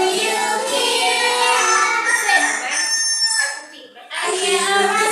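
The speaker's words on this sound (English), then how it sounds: "I hear a rooster." A rooster crows loudly and close by, one long drawn-out call followed by a brief pause and the start of another crow.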